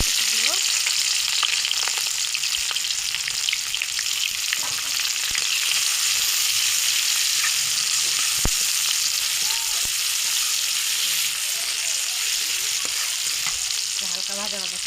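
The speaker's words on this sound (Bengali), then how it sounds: "পেঁয়াজটা ভাজা হচ্ছে" Onion frying in a hot wok (karai) for a Bengali egg and pui shak dish, a steady loud sizzle running the whole time with occasional stirring clicks and scrapes, no voices.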